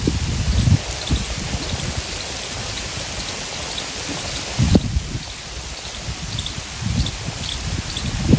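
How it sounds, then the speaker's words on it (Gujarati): Steady heavy rain pours down with a dense, continuous hiss, its pattering broken by a few louder splashes, with no voices. "વરસાદ ધરમર ધરમર પડે છે"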